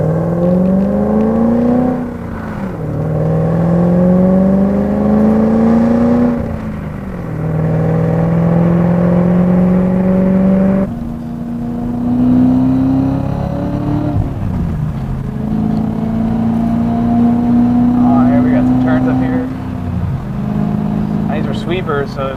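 A loud, lowered BMW E34 accelerates through several gears, each rising engine note dropping at the shift, close and dominant throughout.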